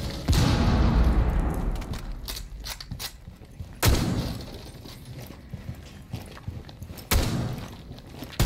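Grenade explosion in the game Rainbow Six Siege, a loud close blast followed by a long decaying rumble, with two more sharp booms later among scattered gameplay clatter.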